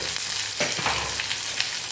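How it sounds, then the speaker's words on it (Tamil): Fenugreek seeds and onion frying in a pan, a soft continuous sizzle with faint stirring scrapes, fairly quiet and steady with no voices. "வெந்தயம் வறுப்படும்போது ஒரே ஒரு வெங்காயத்தை கட் பண்ணி வச்சுட்டு போட்டுக்கிறேன்."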